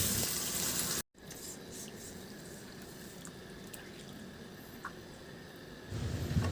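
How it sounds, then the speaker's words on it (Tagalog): Water pours steadily into a pan of cooked chicken for pansit bihon, a continuous close splashing rush that starts abruptly after a brief silence and grows slightly louder near the end. "Maglagay na ako ng tubig"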